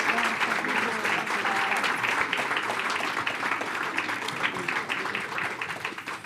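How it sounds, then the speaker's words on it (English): Audience at a school board of trustees special meeting giving sustained, dense applause, loud and steady throughout, a full room of clapping hands. "Let's give a round of applause, and thank you for being here with us."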